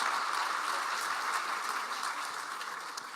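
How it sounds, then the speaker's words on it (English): Applause from the audience at a televised Democratic primary forum, a steady broadband patter of many hands held evenly for about three seconds, moderately distant and without voices. "We just want to give them a round of applause, everybody"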